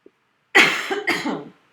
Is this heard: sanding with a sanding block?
no